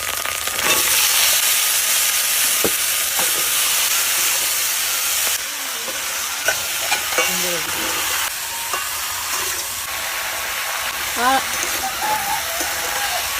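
Mixed vegetables with ginger frying in a pan for a Bengali mixed-vegetable dish, a steady loud sizzle and hiss with occasional stirring scrapes and someone talking over it.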